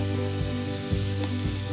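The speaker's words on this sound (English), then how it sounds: "And again saute till the mushroom gets cooked" Mushrooms saute in a pan, giving a soft, steady sizzle with a few brief stirring bumps over a short stretch.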